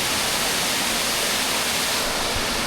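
Sarika Waterfall in Nakhon Nayok roars as a dense, loud, unbroken wash of falling water heard close, with no voices over it.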